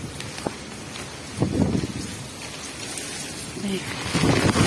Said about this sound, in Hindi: यहाँ बारिश हो रही है, बहुत तेज़ बारिश, बहुत तेज़ बारिश।